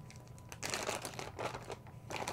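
Plastic bag crinkling in bursts as air is pressed out to seal it around EVA foam clay, close and fairly soft, with brief quiet gaps between the rustling.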